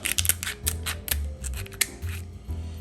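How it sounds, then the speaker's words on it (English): Kitchen scissors snipping through a lobster tail shell, a series of rhythmic crunching cuts repeated about every half second, close and crisp. "you're going to push through and you're going to cut up"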